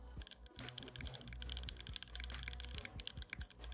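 Fast typing on an expensive, heavy mechanical computer keyboard weighing 1,726 grams. Dense, quick clacks and taps run in an unbroken rhythm, close up and fairly quiet, with no talking.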